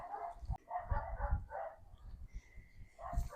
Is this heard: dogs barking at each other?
yes